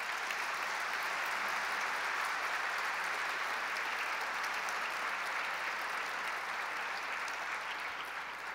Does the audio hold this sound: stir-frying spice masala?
no